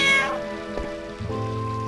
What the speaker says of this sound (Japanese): あ、猫か。